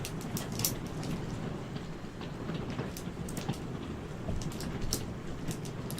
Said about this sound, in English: It's raining like crazy outside, in case you can't hear.